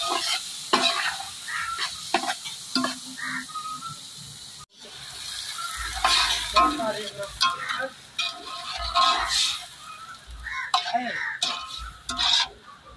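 Washed masoor dal is tipped into a pan of hot oil and chili powder for amti and stirred. Scraping stirs and crackling sizzle come in repeated bursts, close by, while a voice talks over them.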